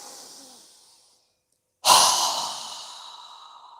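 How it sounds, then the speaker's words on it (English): A single strong breath pushed out through the mouth during a yoga breathing exercise, starting abruptly after a brief silence and fading over a couple of seconds; a softer breath trails off before it. "we're going to exhale through our mouth with a strong exhale"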